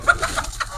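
Desi chickens at a food stop in Kotli give several short, quick clucks in a close, irregular burst, with no voices over them.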